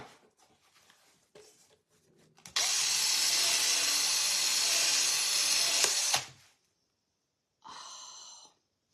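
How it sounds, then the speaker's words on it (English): A power drill whines loudly and steadily for about four seconds while boring into vintage aluminum Christmas light covers, after some quiet handling clicks, then it stops and gives one shorter burst. "Let's do a little bit more drilling."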